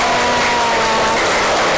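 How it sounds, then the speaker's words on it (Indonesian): A classroom of accounting students claps together at their teacher's call, a loud, dense wash of hands close by with a thin steady hum underneath, brief and unbroken, with no talking. "Oke, kita tepuk tangan dulu untuk semuanya"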